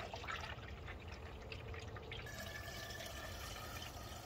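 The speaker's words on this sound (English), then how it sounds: "last thing to do is fill up our coolant system" Coolant concentrate is poured into the coolant system of a first-generation Cummins truck, a quiet continuous trickling and dripping of liquid heard close up.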